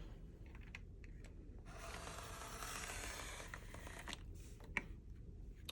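A Creative Memories circle cutter's arm swings around to cut a half-inch circle, giving a soft continuous scraping rasp for about two seconds amid faint clicks and handling taps, close and quiet.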